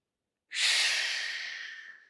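A single slow inhalation during a qigong stretch, close and soft, starting abruptly and tapering off over about a second and a half against silence.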